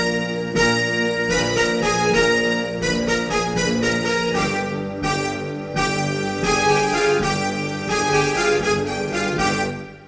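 Orchestral film score from Avengers: Endgame, a loud, sustained passage with melody doubled in octaves, dense harmonics and steady rhythmic pulses throughout, no voices.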